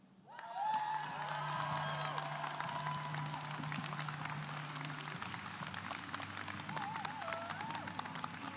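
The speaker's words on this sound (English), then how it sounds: "that's polite applause" Steady, moderate applause fills a large hall at the 2019 FTC Houston World Championship awards ceremony for a volunteer award, sustained polite clapping from the crowd with a low hum underneath.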